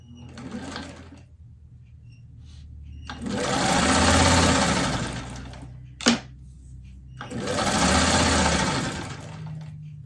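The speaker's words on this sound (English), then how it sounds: "So from diagonal to sew from corner to corner on the diagonal." Sewing machine stitching quilt fabric diagonally from corner to corner, two loud sustained runs of rapid needle chatter separated by a pause and a sharp click.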